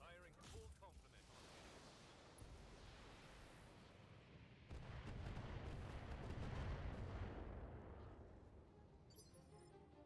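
A mech in the BattleTech game fires its full weapon complement, a dense sustained barrage of heavy booming blasts and rumbling impacts that swells louder midway, with a voice talking intermittently.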